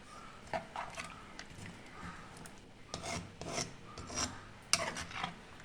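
A spoon scrapes and rubs through avial, a Kerala mixed-vegetable curry with tomato, as it is mixed in a pot, giving soft, irregular scraping strokes that sound close and quiet, with no speech.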